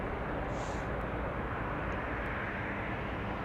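Airplane landing at Toronto Pearson on runway 06 right, heard as a steady, faint, broadband engine roar with no variation, and no talk.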